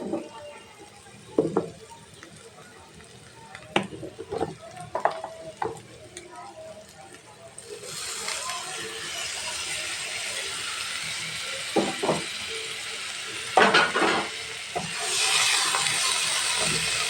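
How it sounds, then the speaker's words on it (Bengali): Chopped green chillies being stir-fried in a pan, a quiet hiss under scattered scraping and knocking of a spoon against the pan, the sizzle swelling louder in the second half. "এখন একসাথে ভালো করে আমি কষিয়ে নিচ্ছি।"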